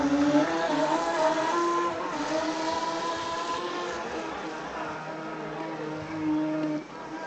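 A remote-control speed boat races on the water at Marmaris, its small motor whining in a steady, high-revving buzz that shifts pitch slightly and swells briefly near the end.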